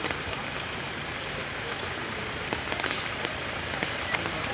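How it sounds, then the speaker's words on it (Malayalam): Heavy rain pours steadily around a hillside walking path in Vagamon, a dense, even hiss of drops with occasional louder spatters, continuous and close. "ഭയങ്കര മഴ കേട്ടോ"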